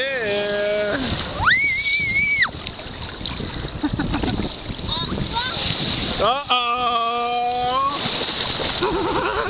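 Ocean waves breaking and splashing around children jumping in the surf, a continuous rushing wash beneath loud, high children's shouts and calls that come in bursts.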